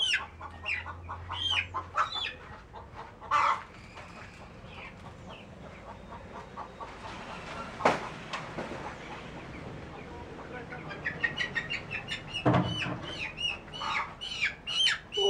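Young pullet chicks cheep and squawk in shrill bursts close by, with a few louder cries and some scuffling noise between calls.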